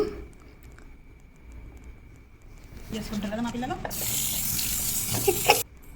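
Hands are washed under a running tap with a soap-like tissue, beginning with quiet dripping and squishing and then a steady stream of water hissing into the sink, with a voice talking over it.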